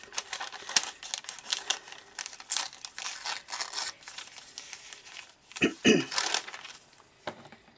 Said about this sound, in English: Everything's going to be torn, not cut.